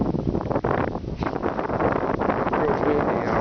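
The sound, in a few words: wind blowing outdoors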